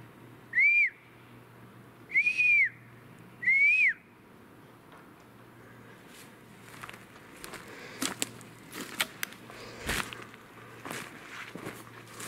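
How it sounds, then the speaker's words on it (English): Three clear, rising-and-falling whistles from a bird in a forest ring out in quick succession, then crunchy footsteps on forest ground follow. "There is a bird that whistles."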